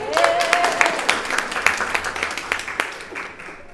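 Audience at a round-table academic event clapping for a guest speaker, individual claps clearly audible in an irregular rhythm, moderately loud and gradually tapering, with a brief whistle-like tone near the start.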